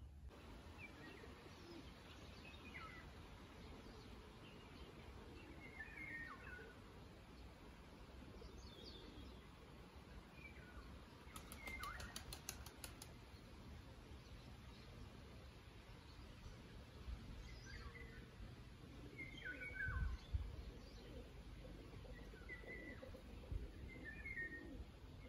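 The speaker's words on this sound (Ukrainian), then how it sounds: "І як почуєте, то трохи співу пташок." Morning birdsong in a garden with a small-flowered climbing rose: scattered faint chirps and whistles with occasional dove-like coos over steady outdoor ambience, distant and soft throughout.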